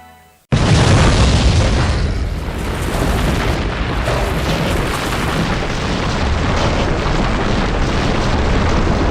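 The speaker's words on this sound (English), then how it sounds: "setting off dynamite" A loud dynamite blast from a construction job bursts in after a brief quiet moment, followed by a long, heavy rumbling roar of debris that stays strong and steady to the end.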